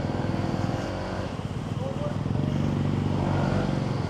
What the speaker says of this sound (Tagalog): Parang galit na galit yung makina.